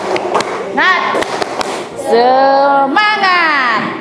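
A class of teachers at a training assessment session does a rhythmic 'tepuk semangat' spirit clap, sharp hand claps and thumps followed by loud group chanting in unison.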